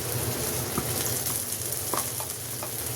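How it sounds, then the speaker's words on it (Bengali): Tomato paste mix hitting frying onions in a pan, giving a steady close sizzle with a few soft stirring scrapes and clicks, no talking over it. "এখন আমি এর মধ্যে আমার কাছে টমেটো পেস্টের যে মিক্সটা থাকে আমি সেটা এখন দিয়ে দিই"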